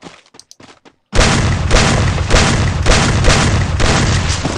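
Shotgun blasts in Free Fire during a zombie mode match, a run of five or six heavy, booming shots at a steady pace after a few faint clicks and near silence.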